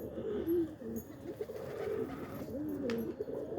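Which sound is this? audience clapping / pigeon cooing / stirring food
pigeon cooing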